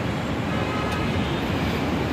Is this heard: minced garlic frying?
no